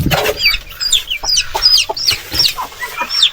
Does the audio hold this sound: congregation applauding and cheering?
no